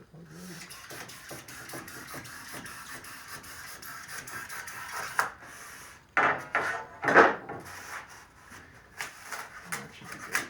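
A hand saw cuts a thin wooden piece for a crate, with rapid rhythmic rasping strokes up close, broken by a pause and then a few louder, harsher strokes near the end.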